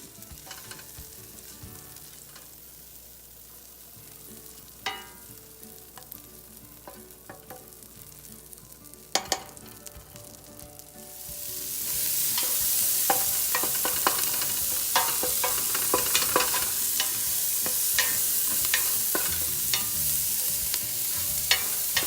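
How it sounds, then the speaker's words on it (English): Onions go into melted butter in a pot, first a quiet stretch with a few clinks, then a swelling, steady sizzle with sharp utensil taps and scrapes through the second half, close and without talk. "I'll add my onions and cook it for about 5 minutes until it's like translucent"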